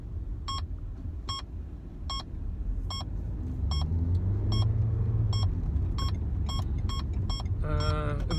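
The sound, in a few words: car driving up the path behind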